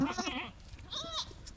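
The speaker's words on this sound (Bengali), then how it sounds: "মায়ের ছাগল কোনটা মাহির ছাগল কোনটা" A goat bleats twice in quick succession, close and fairly quiet, over a soft background.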